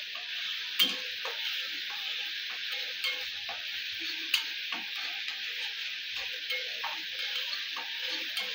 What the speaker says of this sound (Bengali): দিয়ে এইভাবে ভালো করে নাড়াচাড়া করে নিতে হবে।